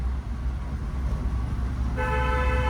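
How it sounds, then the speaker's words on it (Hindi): A car horn sounds in a steady, sustained honk over the low rumble of a running engine and road noise in city traffic. "कंटिन्यू हॉर्न बजाओ और निकालो"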